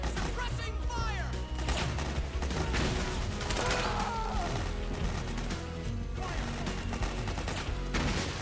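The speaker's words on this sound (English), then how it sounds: "Suppressing fire!" Suppressing gunfire in Metal Gear Solid 4, dense rapid bursts and fusillades of shots with mechanical clatter and crashes, loud and continuous, with voices mixed in.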